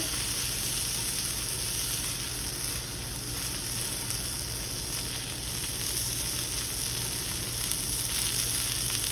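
Chicken breast sautéing in a hot pan gives a steady, even sizzle and fry throughout, fairly soft and continuous, with no talking.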